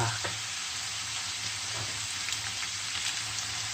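Onion cooks with potatoes in pork fat under a dense, even sizzle that holds for the whole stretch, with faint stirring clicks on top.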